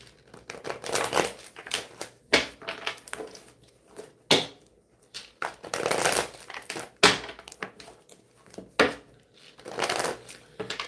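A deck of cards is shuffled close by, producing repeated papery riffles and crinkling bursts separated by short pauses.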